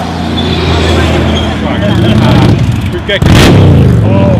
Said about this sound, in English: a truck followed by a motorcycle